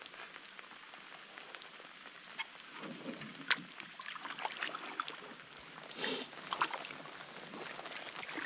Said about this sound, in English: the rain just does not let up, at least today